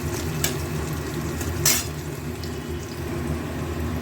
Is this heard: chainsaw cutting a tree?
no